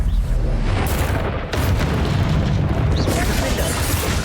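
Spell blasts from Confringo and Bombarda in Hogwarts Legacy: dense, continuous booming explosions layered over game effects, loud and sustained with a brief dip midway and no clear gaps between blasts.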